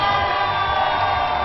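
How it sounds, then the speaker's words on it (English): A large crowd shouts and cheers continuously at a mixed team final between England and Wales, a dense, steady roar with no breaks. "A shout of Lions. Crowd is so up for this."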